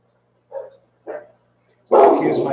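A pet dog named Sadie barks indoors, giving two short separate barks and then a longer loud burst of barking, close by.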